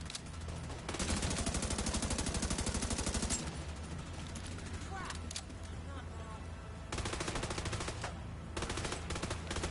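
Gunfire in the video game Division 2, sustained rapid automatic bursts close and loud, with dense overlapping shots and brief lulls, under game voices shouting.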